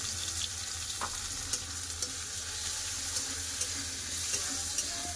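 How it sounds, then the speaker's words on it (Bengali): Tomato and onion frying in a pan make a constant moderate sizzle, with small stirring clinks and scrapes at intervals and no voices. "টমেটো পেঁয়াজ ভালো করে ভেজে নেবো"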